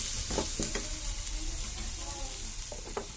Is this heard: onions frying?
yes